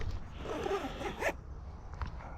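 A zipper on a Kemimoto bag pocket is pulled open in one long, close, raspy stroke that ends abruptly, followed by faint handling noise.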